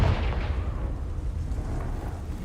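A Confringo blast curse goes off in Hogwarts Legacy, a heavy booming explosion at the start that decays into a long rumbling low tail.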